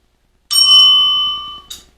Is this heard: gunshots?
no